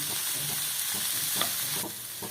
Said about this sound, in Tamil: தேங்காய் பூயும் போட்டு கிளறிடலாம்.